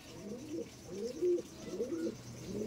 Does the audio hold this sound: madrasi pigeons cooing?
yes